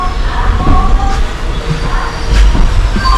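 Konkan Railway Matsyagandha express running, heard from inside a nearly empty coach as a loud continuous rumble with low thumps and rattles of the wheels on the track.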